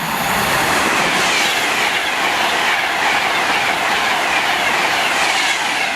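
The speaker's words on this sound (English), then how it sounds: "Here's your service from London Euston to Manchester Piccadilly." A passenger train on the London Euston to Manchester Piccadilly service rushes past at Tamworth, loud and close, with a continuous roar, rhythmic wheel clatter and a hint of squealing wheels throughout.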